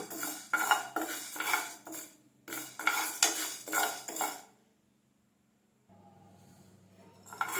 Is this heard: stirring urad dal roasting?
yes